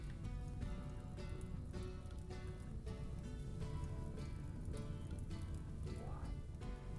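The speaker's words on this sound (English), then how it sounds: "Oh, it started raining." Rain falls in the video game RimWorld as a steady, dense patter of drops hissing evenly throughout with no voices.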